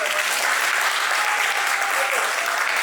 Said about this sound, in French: je vous entends applaudir.